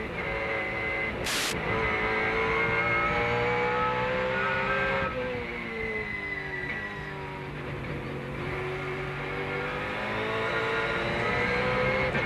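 Trans Am race cars from 2003 accelerate up the climbing front straight at Road America, a loud, continuous engine roar whose pitch rises and shifts as several cars power past.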